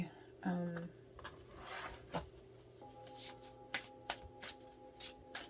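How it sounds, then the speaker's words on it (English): A deck of cards is shuffled by hand in a quiet room, with several soft riffling bursts and light rustles spread across a few seconds while a faint musical tone hums beneath. "I'm just going to shuffle."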